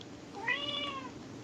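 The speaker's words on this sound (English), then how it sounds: "That was my cat." A single close, clear cat meow, rising and then falling in pitch and lasting about a second, over quiet room tone.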